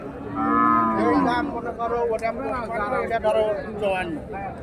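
Cattle at a cattle market lowing loudly and close, a long moo at the start followed by more drawn-out calls, with people talking alongside.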